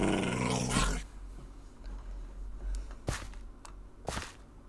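A tamed dog in a Minecraft multiplayer server makes a loud growl at the start, followed by quieter sharp growls and snaps spaced a second or so apart.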